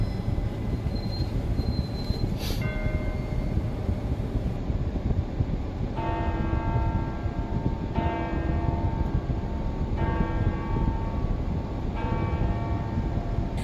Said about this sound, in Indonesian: Lonceng gereja dalam gereja Katolik sudah digunakan sejak tahun 400-an